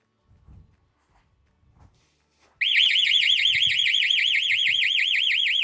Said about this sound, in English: So I set the alarm from the app, walked towards the house, it triggered the alarm before I was anywhere near the property.